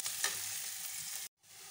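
Onions, green chillies, salt and turmeric fry together for a chicken momo filling, making a soft, steady sizzle that cuts out abruptly for a moment before resuming.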